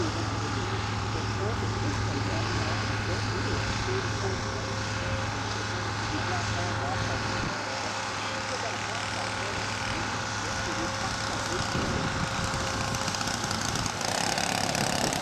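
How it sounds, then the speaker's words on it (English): A scale model aircraft coming in low for a landing at an outdoor model show, its engine droning steadily throughout with a shift in pitch midway, while a commentator talks over it. "A low pass and into a landing."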